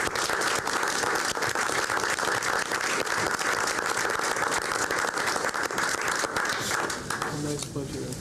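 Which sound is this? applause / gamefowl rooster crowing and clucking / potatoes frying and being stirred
applause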